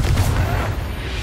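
A Confringo blasting spell cast in the Hogwarts Legacy video game, heard as a loud, dense low boom that rumbles steadily through the short moment.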